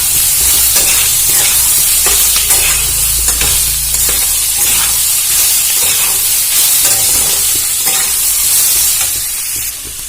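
Chopped green chilies frying in a pan, a loud, steady hiss and sizzle of hot oil with occasional stirring scrapes, continuing without talk.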